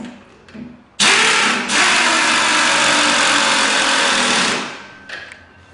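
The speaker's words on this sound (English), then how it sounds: "our next step will just be to tighten up the shock bolt" A power tool tightens the shock bolt on an EZGO TXT golf cart during a spindle lift kit install, giving one loud, close, steady whirring burst of about three and a half seconds between quiet moments.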